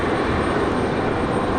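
Delta flight 2600, an airliner arriving from Atlanta at Raleigh-Durham airport at night, gives a steady, loud broadband engine roar.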